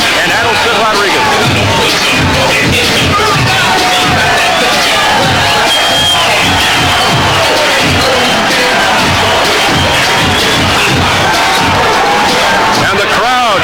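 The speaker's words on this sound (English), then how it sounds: "And the crowd saluting Evander Holyfield" A boxing arena crowd roars and cheers for heavyweight Evander Holyfield, a dense, loud, sustained wall of voices with shouts and whoops rising throughout.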